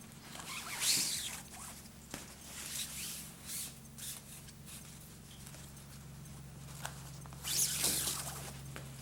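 Ribbon lacing is drawn through eyelets and pulled tight up the back of a dress, giving soft, close swishing and rasping pulls in several separate strokes over a low steady hum.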